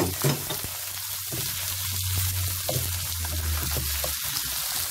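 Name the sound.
onion frying in olive oil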